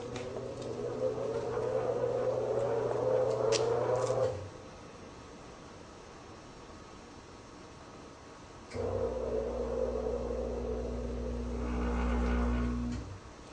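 A wheel balancer spins a wheel with a calibration weight attached, giving a steady mechanical hum that runs for a few seconds, stops, then starts again after a pause and keeps whirring at a loud, even level.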